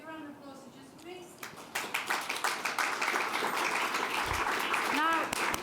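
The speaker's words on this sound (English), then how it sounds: "Give a round of applause to Jussi, please." A conference audience claps for the speaker Jussi, starting after a few spoken words and swelling into steady, dense applause that continues to the end while a voice briefly talks over it.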